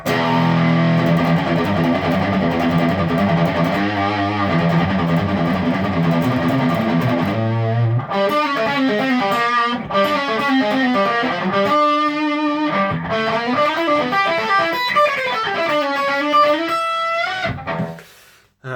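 Electric guitar played through the distortion of a TC Electronic Nova System effects unit, loud sustained chords giving way to a gritty melodic lead line, alone without talk.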